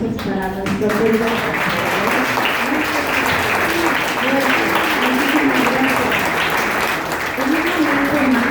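Sustained audience applause at a writers' gathering, a loud and dense field of clapping, with a voice talking over it through most of the stretch.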